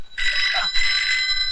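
A telephone rings in a Hindi film comedy scene, a bright electronic trill in two bursts, loud and close, with a brief voice under the start.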